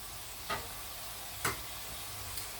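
Bitter melon with egg and minced pork stir-frying in oil, a steady low sizzle with two quick spatula scrapes against the pan.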